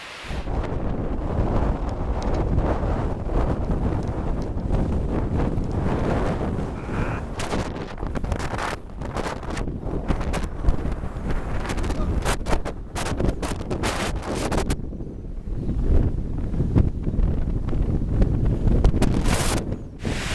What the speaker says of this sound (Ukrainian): сьогодні у нас знов сходження нема, тому що у нас дуже сильний вітер